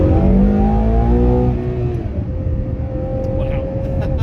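The front-mounted V12 of a Ferrari Purosangue revs loudly up close, its note climbing and then settling into a steady drone as a voice talks over it.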